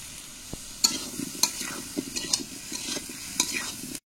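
Chili powder and turmeric stir-fried in chicken fat with stomach pieces, cooked outdoors in a mango orchard: a soft sizzle under repeated sharp scrapes of a spatula against the pan, loud and close, with no talk.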